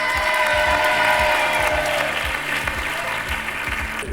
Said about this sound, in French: Applaudissez très fortement nos deux candidats, Nicole et Florent.